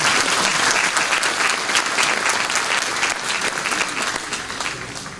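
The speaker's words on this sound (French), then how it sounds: "Vous pouvez applaudir, oui." A large audience at a mayor's New Year address in Saint-Gervais Mont-Blanc bursts into loud, dense, sustained applause that holds steady and slowly eases off.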